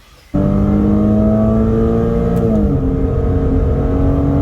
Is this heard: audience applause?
no